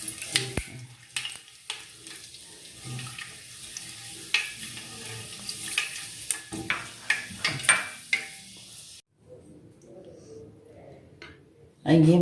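Green cardamom pods go into hot oil and sizzle softly, with scattered ticks and stirring clicks. The sizzle drops away near the end, leaving only faint noise.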